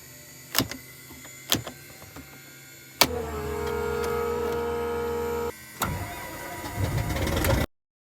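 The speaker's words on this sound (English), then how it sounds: "We gotta start up, get these engines started" Small airplane engines starting up: a few sharp clicks and pops, then a loud steady cranking whine for a couple of seconds, a brief pause, and an engine catching into a rough rising roar before cutting off.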